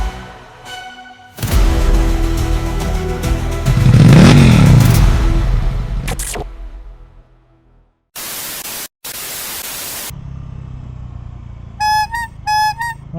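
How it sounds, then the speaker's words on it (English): A motorcycle exhaust revs up hard to a loud peak and falls away, followed by bursts of static and a few short electronic beeps. "Exhaust sounds amazing."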